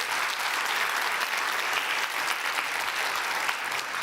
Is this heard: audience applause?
yes